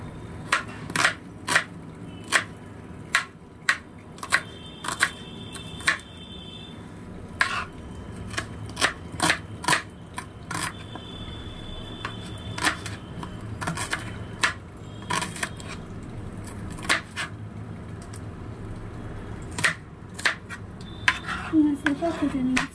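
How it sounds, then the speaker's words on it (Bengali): An onion being cut with a knife in a home kitchen, giving repeated crisp taps and chops on a board at an uneven, steady pace. "এবার পেঁয়াজটা একটু কেটে নিই"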